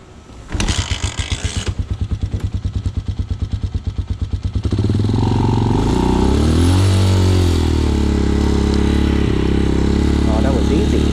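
An inexpensive motorcycle is started, first with rapid regular cranking pulses that catch after about four seconds, then settling into a loud, steady idle with some revving close by.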